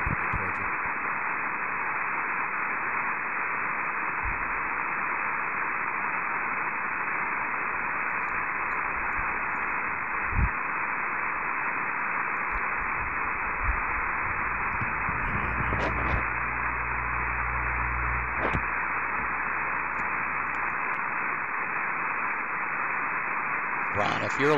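Amateur radio receiver hiss on the west antenna, a steady loud band of static noise filling the whole clip with occasional faint clicks and low hum bursts.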